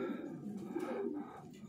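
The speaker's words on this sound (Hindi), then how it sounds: "ये सारे जोड़ों वाले कबूतर है" Breeder pigeons coo softly inside a loft, a low, steady murmur that runs the whole time, faint and close.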